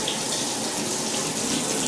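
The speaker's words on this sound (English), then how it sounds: "Very hard to turn faucet" Water runs steadily from a bathtub faucet in a hotel bathroom, a constant close hiss and gush with no voices.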